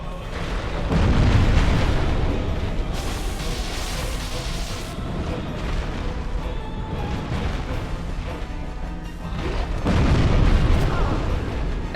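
A Fire Sage boss attack in Dark Souls erupts as loud booming blasts, a heavy fiery roar surging at the start, sustained through the middle and swelling again near the end.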